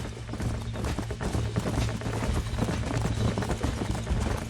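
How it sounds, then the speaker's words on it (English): Horse hooves clip-clop steadily in the Red Dead Redemption video game, a herd of horses moving together over a continuous low rumble, with busy overlapping hoofbeats throughout. "These are fine horses."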